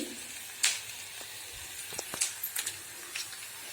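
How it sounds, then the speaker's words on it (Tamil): Onions sautéing in a pan for a bitter gourd tamarind curry give a faint, sparse sizzle, with a few soft clicks and light spatters scattered across a quiet background. "இப்போ பாதி அளவுக்கு ஆனியன் வந்து வதங்கிடுச்சிங்க"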